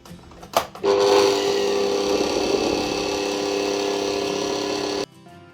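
An electric mixer whisks four egg whites with a pinch of salt, starting after a couple of clicks and running as a loud, steady motor whine with a tonal hum, then stopping abruptly near the end.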